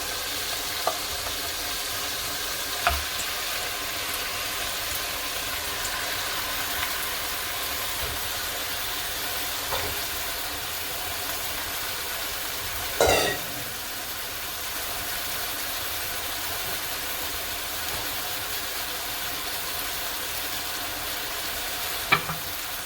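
Pork browns in a pan with shallots and garlic, a faint, steady sizzle and hiss running throughout with a few soft clinks and stirring knocks, no voices.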